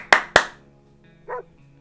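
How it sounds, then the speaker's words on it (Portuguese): A dog in the video game 60 Seconds gives two sharp, loud barks in quick succession, followed after a pause by a short, softer whine or yip, alone over a quiet hum. "Pra nossa surpresa, era um cachorro."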